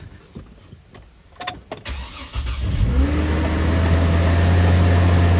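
A car engine with a 4L60E transmission cranks and starts, then settles into a loud, steady running drone close by, with no one talking.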